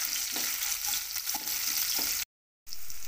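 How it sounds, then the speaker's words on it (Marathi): Crushed garlic and green chilies frying in a pan, with a steady close sizzle and occasional stirring scrapes, broken by a short gap of silence near the end. "लसूण पण गुलाबी रंगावर परतायचं आहे आपल्याला"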